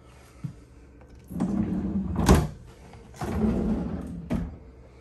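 Freezer drawers of a large residential refrigerator in a 2022 Elkridge 38RSRT fifth wheel RV, heard as a couple of muffled thunks and sliding rumbles, one sharper knock in the middle, close by with no talking.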